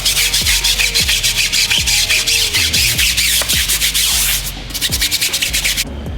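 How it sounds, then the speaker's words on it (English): A tire brush scrubs a car tire in fast, loud, rhythmic back-and-forth strokes close by, a continuous rubbing scrub that eases briefly toward the end before picking up again. "And then we'll come in with our tire brush."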